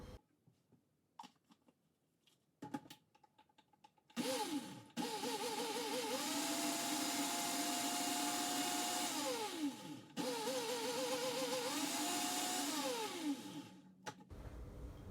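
A blender whirs loudly for about ten seconds, blending black bean dip with agave syrup into a paste, its motor pitch shifting and dropping briefly midway; soft knocks and rustles come before it starts.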